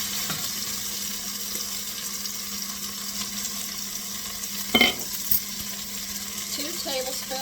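Three cloves of minced garlic sizzle in a pan for stifado, a steady soft frying hiss throughout, with a brief clatter of a utensil partway through.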